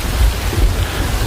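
Heavy rain pours steadily with a low rumble of thunder underneath, a dense, loud wash of noise with no voices.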